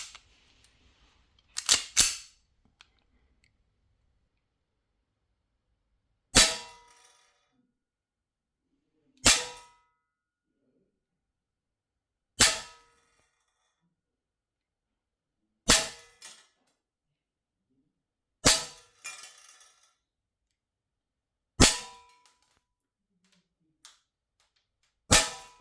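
Airsoft gun freshly oiled, fired as single shots: about eight sharp, loud cracks spaced several seconds apart, with silence between, the first two close together.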